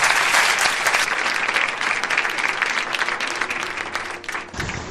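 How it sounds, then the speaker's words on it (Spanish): A studio audience on a Spanish radio program about paranormal mysteries bursts into dense, sustained applause for a departing guest. The clapping is loud and even, with no talk over it, and cuts off sharply just before the end. "Pido un aplauso para él"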